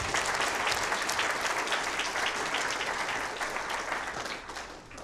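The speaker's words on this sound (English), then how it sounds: "give them a round of applause" A crowd at a Tulsi Gabbard campaign stop in Elkader, Iowa applauds the event volunteers and organizers, with thick continuous clapping that stays strong and then tapers slightly toward the end.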